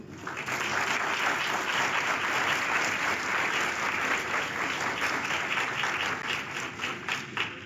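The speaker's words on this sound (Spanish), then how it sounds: "démosle un fuerte aplauso, por favor." A conference audience applauds at the start of an academic talk on ergonomics and usability of interactive spaces, dense sustained clapping that fills the room loudly and evenly, then tapers slightly toward the end.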